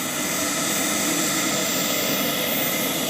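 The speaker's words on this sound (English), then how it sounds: "That's what a real turbine jet sounds and looks like, and smells like." A real turbine jet engine on a model aircraft at a family fun-fly airshow, a loud, steady roaring whine that holds without a break throughout.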